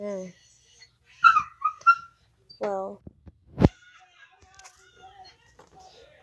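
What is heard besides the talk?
dogs whining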